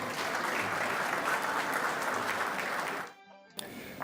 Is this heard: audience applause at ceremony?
yes